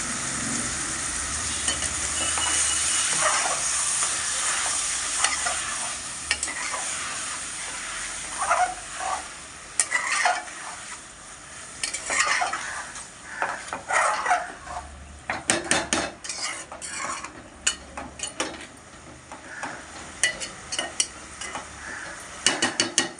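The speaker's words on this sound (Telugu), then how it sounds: "అలాగే టమాటాలు కూడా వేసుకుందాం" Tomatoes sizzle and fry in a pan for an eggplant curry, with a steady hiss under repeated scraping and clinking as a spoon stirs the mixture.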